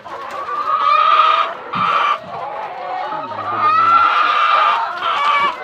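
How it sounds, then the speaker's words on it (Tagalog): Chickens clucking loudly nearby in repeated bursts, with a low human voice briefly mumbling underneath. "Tingnan natin yung manok."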